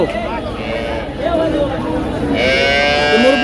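Cows, including Friesian dairy cows, moo loudly and close by at the Dhaperhat cattle market in Bogura, drawn-out lowing calls over a busy background of people talking and market chatter.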